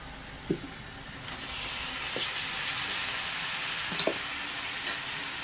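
Chicken hits hot spiced oil in a pan for a winter methi chicken, setting off a loud, steady hiss of frying that swells and holds, with a few soft utensil knocks, close and without talking.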